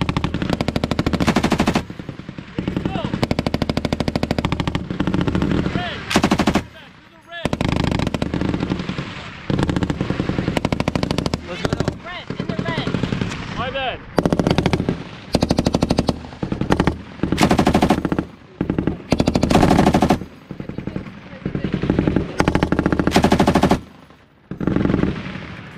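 An M240B machine gun fires on a US Army range in loud, close bursts of rapid shots separated by short pauses, repeating many times.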